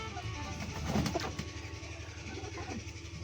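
Soft, low cooing from a pet pigeon, a male brought in to pair with a brown Lakkha hen, repeating through a steady hum of background noise with no talk.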